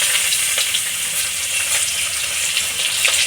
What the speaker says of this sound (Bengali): পেঁয়াজ আর রসুন একসঙ্গে ভাজা হচ্ছে।